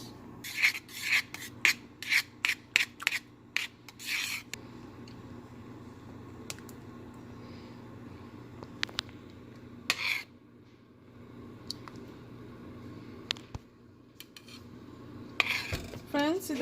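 A utensil scrapes and rubs against a pan while date, tamarind and raisin chutney is stirred, a burst of quick rasping strokes at first, then sparse scrapes and clinks in a quiet kitchen.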